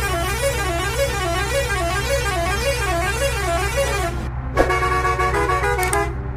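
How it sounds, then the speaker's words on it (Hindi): Indian-style bus horns from the Bus Simulator Indonesia game with an Indian traffic mod, a long warbling musical horn sounding continuously, then cut off and followed by a blaring multi-tone horn blast, loud and close. "तो ये कुछ इंडियन हॉर्न है जो कि गेम में ऐड हुए हैं।"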